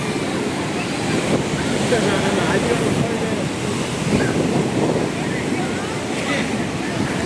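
Large sea waves surge and crash onto the shore at Ganpatipule in a steady, loud roar of surf and spray, with wind buffeting and voices mixed in.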